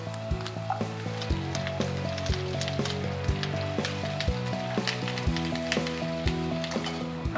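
Garlic and sprigs of thyme sizzling in a hot pan with chorizo, a soft steady frying crackle with small pops, heard under quiet background music.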